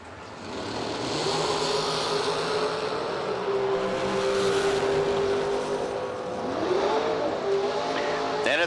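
Drag race cars launching down the strip at an IHRA event: a sustained, loud engine roar that rises and holds, then swells again as the cars pull away, heard from trackside.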